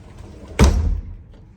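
A hotel room wardrobe door slides open with one short, solid thud-like rumble that fades quickly, heard close up and alone.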